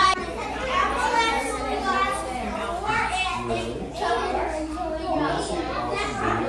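Noisy children play indoors in Canada, a loud continuous mix of excited shrieks, chatter and overlapping young voices throughout.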